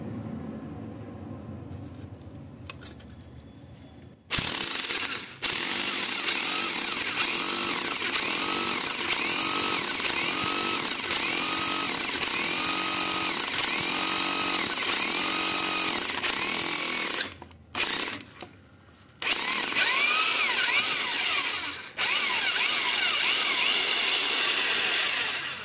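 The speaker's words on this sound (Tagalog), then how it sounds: "So game, testing na tayo. Butasin natin to." A Nanwei rotary hammer drill bores a hole, a loud sustained rapid hammering buzz close by, with brief pauses and restarts near the end.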